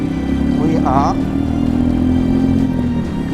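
A Royal Enfield Meteor 350 motorcycle is ridden under steady throttle, its engine making a continuous droning rumble beneath a rider's voice.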